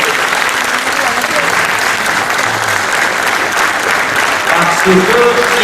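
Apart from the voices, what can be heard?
standing audience applause for Gilles Pargneaux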